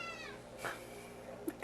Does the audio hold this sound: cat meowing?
yes